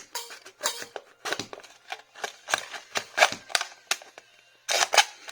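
A rapid series of sharp metallic snips and crunches, close and fairly loud, with brief pauses between cuts, as scissors cut through an aluminium can.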